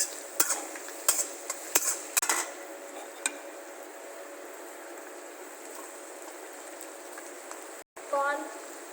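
Raw carrots tipped into a wok with prawns and stirred, giving a quick burst of sharp clinks and scrapes of a spatula against metal in the first few seconds, then a steady low sizzle, with a voice speaking nearby.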